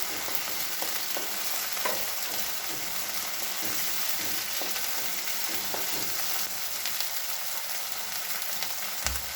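Chili paste for an aloo baingan salan sizzles and fries in a pan, a continuous soft crackle with occasional stirring clicks and no voices.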